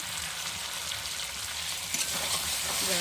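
Chicken meat cooking with potatoes in a pot for a village-style curry, stirred with a spoon: a steady broadband sizzle runs throughout with soft scraping stirs, a bit louder near the end, no talking.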